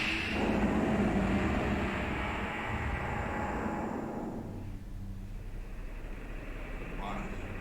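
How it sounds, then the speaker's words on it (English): A video game helicopter drones as it approaches, its steady engine roar loud at first and then easing slightly while staying continuous; there is no speech. "Helicopter?"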